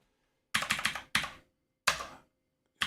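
Computer keyboard typing at a command line: a quick cluster of close, crisp keystrokes, a single tap, a pause, another key press, then one more stroke at the end.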